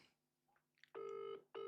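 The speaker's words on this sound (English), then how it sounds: "I got a phone call." A phone rings with an incoming call during a live football watch-along, two close electronic ring bursts separated by a short gap, after faint background sounds.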